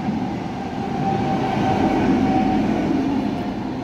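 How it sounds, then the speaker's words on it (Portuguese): A train rolls past near a railway station in Alhandra, Vila Franca de Xira, Portugal, a steady, loud rumble with wheel noise holding for several seconds, close by and with no talk over it. "ó, comboio passando aí."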